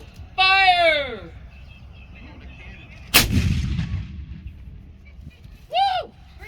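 An 18th-century-style saluting cannon fired at the 1771 Fort Mifflin on the Delaware River, a single loud, close blast with a rumbling tail, framed by people shouting and cheering before and after.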